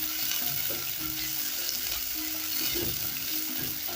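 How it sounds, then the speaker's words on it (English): Onions frying in about a tablespoon and a half of hot cooking oil give off a steady, close sizzle that crackles on its own without pause. "once that is also hot, I'll go in with my onions"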